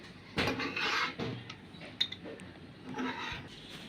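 Spoon stirring chicken bhuna with onion and green chilli in a pan, giving scattered scraping and clinking taps of metal against metal.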